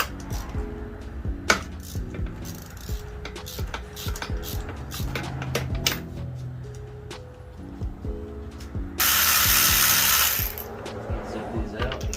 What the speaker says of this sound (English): I'm going to break them loose by hand before I put the electric ratchet up.